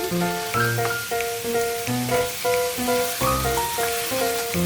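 Chicken pieces frying in a pan while they brown, with a steady sizzle running throughout and no speech.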